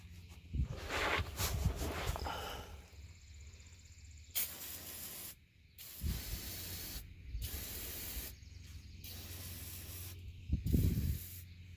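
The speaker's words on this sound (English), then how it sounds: "PB blaster, and I'm just gonna spray every bolt and nut that we're gonna have to be taken off." Repeated hissing bursts of PB Blaster penetrating oil sprayed onto truck bolts and nuts, several short sprays in a row with brief pauses, close by over a low background hum.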